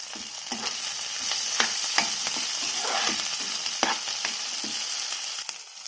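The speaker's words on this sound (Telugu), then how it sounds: "వేసి బాగా వేపుకోవాలి. కొంచెం కరివేపాకు కూడా." A tempering of garlic and curry leaves fries in hot oil in a pan, a steady close sizzle broken by repeated scraping stirs, with no talk.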